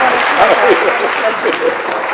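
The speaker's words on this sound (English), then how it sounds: "Please, let's give a warm round of applause to Sadhguru." An audience at a talk on the future of the feminine applauds, giving steady, even clapping throughout with faint voices mixed in.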